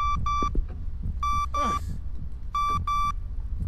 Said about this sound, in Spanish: La alarma, tío.